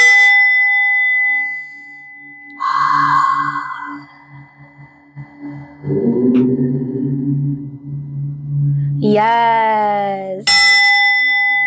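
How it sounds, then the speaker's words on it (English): Clear, resonant chimes ring out one after another at the close of a live deep-stretch yoga class, each tone sustaining and fading in a quiet room, with a brief spoken word in between. "I want to ring out with 7 chimes"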